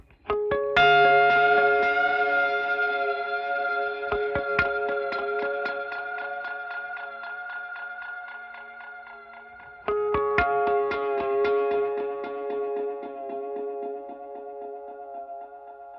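Guitar notes echo in trailing tape delay repeats from a Strymon Volante, growing thinner and duller as they fade; a second phrase restarts midway and decays the same way.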